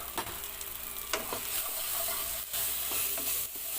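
Spices such as red chili, coriander and garam masala stirred into aloo masala in a hot pan, giving a soft steady sizzle with a few scraping strokes of the spoon, close and fairly quiet.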